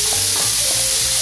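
Celery sizzling and frying in oil in a pan, the first step of a Cajun holy trinity for a Louisiana-style hamburger, with a steady crackle and occasional stirring, close and alone without any talk.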